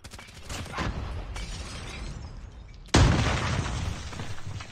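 A gun fires in a video game, a sudden loud blast near the three-second mark cutting through steady background game noise and rumble, with no talking.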